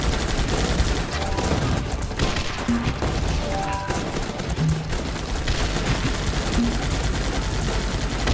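Gunfire in the video game Guns Up!, a dense, continuous fusillade of rapid shots with splintering crashes layered together, loud and sustained throughout with no pauses.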